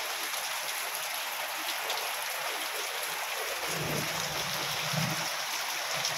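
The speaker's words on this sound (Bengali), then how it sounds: "বন্ধ হচ্ছে না বৃষ্টিটা।" Heavy rain falls during a flood, a steady broad hiss of downpour on surfaces that stays even and unbroken, with a few low thumps partway through.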